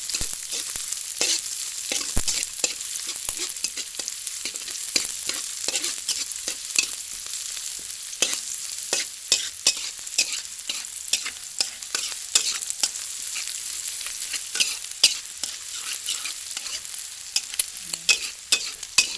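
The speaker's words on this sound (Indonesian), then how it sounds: "Bawang merah, bawang putih digongsor sampai harum" Chopped shallots and garlic sauté in a frying pan until fragrant, giving a steady, close sizzle with frequent crackles and pops and the scrape of stirring throughout.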